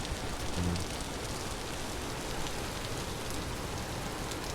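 Rain in the survival game Vintage Story pours as a quiet, constant hiss without pauses, with no voices over it.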